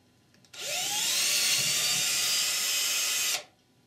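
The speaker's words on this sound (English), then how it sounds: "is to enlarge the hole in the lockup firmness plug to one of three sizes of your choice" A power drill bores out the hole in a Ford E4OD/4R100 transmission lockup firmness plug, spinning up at about half a second into a loud, steady high-pitched whine for roughly three seconds, then stopping abruptly.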